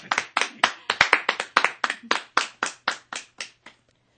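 A short burst of hand clapping used as a sound effect in a Korean radio drama reading, a quick run of crisp claps from a small group that slows and fades out, with no talking.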